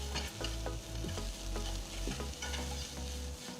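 Curry leaves, salt and asafoetida are stirred in a hot frying pan, giving a steady oily sizzle. Irregular spatula scrapes and knocks on the pan sound close and fairly loud throughout, with no voices.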